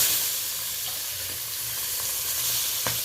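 Tiger prawns marinated in salt and turmeric fry in hot oil with a steady close sizzle, stirred now and then with a few sharp crackles and pops, with no talking.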